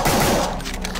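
Rapid gunfire in the video game Brutal Doom, a loud burst of overlapping shots packed into a single second, dense and close, with no one speaking.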